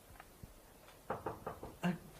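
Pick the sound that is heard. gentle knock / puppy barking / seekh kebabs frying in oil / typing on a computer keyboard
gentle knock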